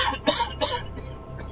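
A person coughs several times in quick, harsh bursts, close to the microphone, with faint room noise between.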